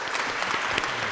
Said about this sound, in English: A warm round of applause for all of them, please.